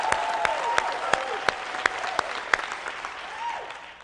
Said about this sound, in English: Give a big round of applause to John Wilson